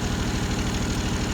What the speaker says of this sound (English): I've been running the engine at 1700 RPMs. It's been running great.